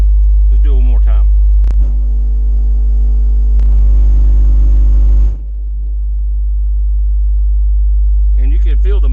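A car engine with an aftermarket high-output alternator setup and a large subwoofer system drones with heavy low rumble and hum, then drops and slowly builds back up, close and loud, with brief speech at the start and end.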